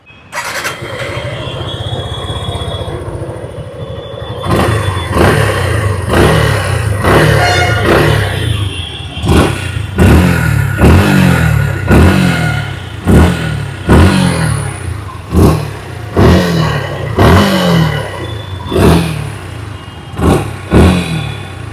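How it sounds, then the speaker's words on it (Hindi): A 2026 Suzuki Gixxer SF 155 motorcycle engine starts and idles, then is revved repeatedly in sharp bursts, each rise falling back to idle, loud and close with no talk. "आइए अभी सुन लेते हैं इस बाइक की एग्जॉस्ट नोट"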